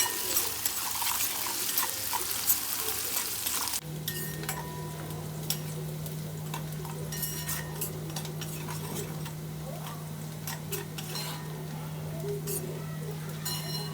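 Chutney cooks in a pan with added salt, a soft steady sizzle with scattered clinks and scraping of stirring; partway through a steady low hum starts and continues beneath the faint cooking sounds.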